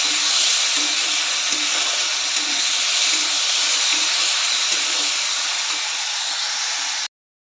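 Tomatoes and drumstick pods with salt sauté in a pan, producing a steady, close hissing sizzle with faint occasional stirring taps, continuous until it cuts off abruptly.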